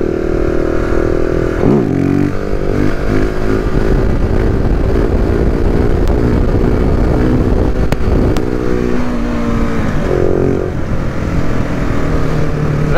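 A 2019 KTM 690 SMCR single-cylinder motorcycle engine roars loudly and steadily through a wheelie, its pitch climbing under acceleration then dropping as the throttle eases and gears shift, with wind rush throughout.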